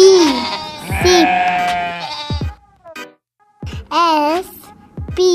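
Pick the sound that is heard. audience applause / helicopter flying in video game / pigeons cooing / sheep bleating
sheep bleating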